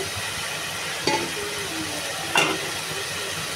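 Spices sauté in a pan with a steady frying hiss, and two distinct scraping knocks come from the stirring utensil.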